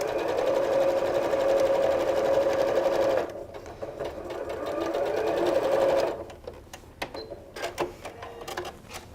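A sewing machine stitches quilt pieces along a drawn line in two steady, close runs of rapid mechanical whirring separated by a short pause, followed by quieter handling noises.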